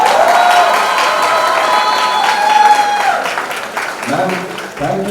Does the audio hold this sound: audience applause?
yes